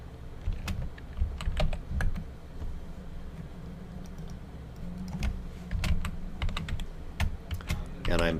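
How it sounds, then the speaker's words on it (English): Keys clatter on a computer keyboard in irregular bursts of quick taps, close by, with short pauses between runs and faint background noise. "And I'm typing in first name"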